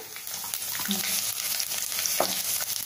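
Quiet crackling sizzle of garlic frying in hot oil over a low flame for a dal tempering, with small pops and a soft stir or scrape partway through.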